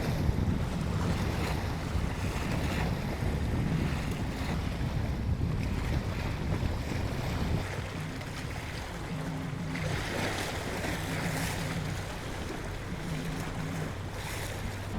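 Ocean waves wash steadily beside a charter boat on open water off Texas, a continuous rushing surf mixed with gusty wind buffeting the microphone, with no voices.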